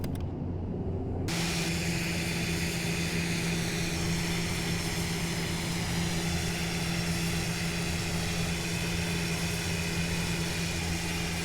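A steady turboprop drone comes from an ATR airliner on approach with its gear lowering in a flight simulator game. The engine sound begins abruptly and holds as a constant, loud hum for the rest of the clip.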